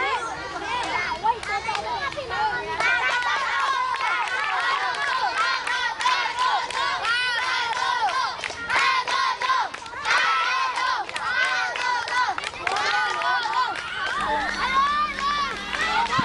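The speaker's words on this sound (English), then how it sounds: "they never stop cheering each other on" Crowd of schoolchildren cheering and shouting during a school baseball game at a Thai school, loud dense overlapping voices throughout with chatter mixed in, steady and close.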